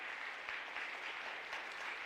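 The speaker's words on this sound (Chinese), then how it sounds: "我们用热情的掌声给他们欢迎一下" Warm applause from a church congregation during a Chinese-language Advent Sunday service with communion and baptisms, welcoming the baptism candidates; a steady, dense wash of clapping fills the room throughout, with no pauses.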